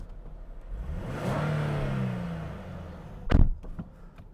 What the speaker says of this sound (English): And this engine, the sound is absolutely awesome.